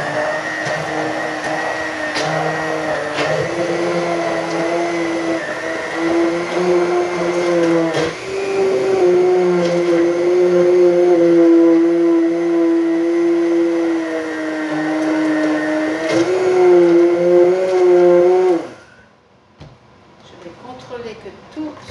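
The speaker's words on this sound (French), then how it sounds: "Et maintenant, je vais venir mixer le jus de cuisson." A blender purees the cooking juices of a pork roast into sauce, a loud, steady whirring motor drone with slight pitch shifts running for about eighteen seconds before cutting off sharply into near silence.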